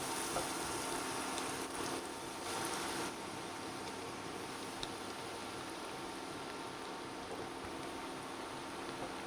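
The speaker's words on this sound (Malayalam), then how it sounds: "അങ്ങനെ എണ്ണ ചൂടായി നമ്മളത് ബ്രെഡ് പൊടിയിൽ നന്നായി പുരട്ടിയെടുത്തിട്ടുണ്ട് അത് നമ്മൾ ഓരോന്നോരോന്നായിട്ട് അതിലേക്ക് ഇട്ട് കൊടുക്കാം" Bread-crumb coated snacks deep frying in hot oil: a steady, dense sizzle and crackle that fills the whole stretch at an even, moderate level, with no talking.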